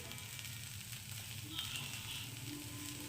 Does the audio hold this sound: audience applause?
no